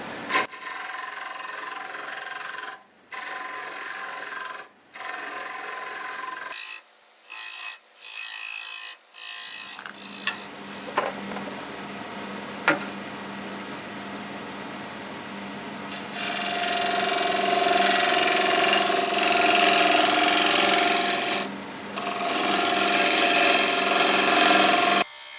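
A wood lathe turns a tenon on fresh cut English walnut with a 40/40 grind gouge: short bursts of cutting and scraping broken by pauses, then a long, louder continuous shaving rasp.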